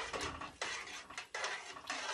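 A wooden spoon or ladle stirs a pot of Irish stew, giving scraping, clattering strokes against the pot in an uneven rhythm, close by and fairly quiet.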